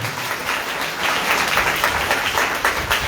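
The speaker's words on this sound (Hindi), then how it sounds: "अरे ताली बजाओ यीशु मसीह के लिए साहब" A church congregation claps for Jesus Christ during a Hindi sermon, a dense, steady roomful of applause lasting about three seconds with no talk over it.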